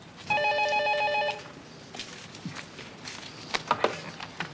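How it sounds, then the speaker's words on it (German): An office telephone at a police homicide unit rings once in a single electronic burst of about one second, fairly near, followed by footsteps and small handling clatter. "Der Scheuer ist am Telefon"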